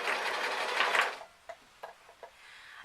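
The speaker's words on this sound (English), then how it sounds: "I'm going to get it in the sewing machine" Sewing machine running fast for about a second while stitching double-folded fabric for a baggy elastic-strapped top, then falling quiet apart from a few soft clicks and brief mechanical taps.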